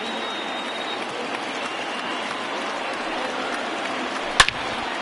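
A baseball stadium crowd of over 31,000 at a Cubs versus Orioles game rising and applauding, a broad steady roar of clapping and cheering with one sharp crack near the end.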